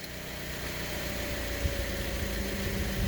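A 2016 Toyota Corolla engine running steadily while the gears are cycled during a transmission flush, a close, even mechanical drone and hum with slight vibration.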